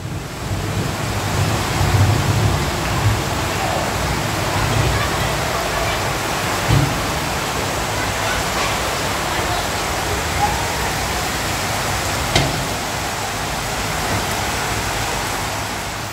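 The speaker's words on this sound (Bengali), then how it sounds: "বৃষ্টির এরকম রিমঝিম শব্দ খুবই ভালো লাগে" Steady rain patters in a dense, even hiss with occasional louder drips, faint voices murmuring in the background.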